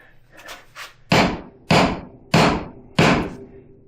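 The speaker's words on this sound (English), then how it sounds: "let me hit it on the ground" A hickory axe handle is knocked against the ground. After a couple of lighter taps come four heavy, evenly spaced thuds, each loud and close with a short ringing decay.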